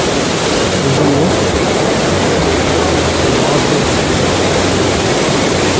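Steady, loud broadband roar of a waterfall near a bamboo bridge in Pelling, West Sikkim, filling the whole stretch without pause, with low rumble underneath and no talking.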